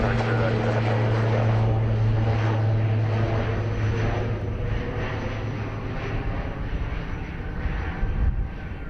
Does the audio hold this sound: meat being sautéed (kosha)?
no